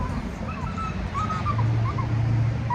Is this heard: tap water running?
no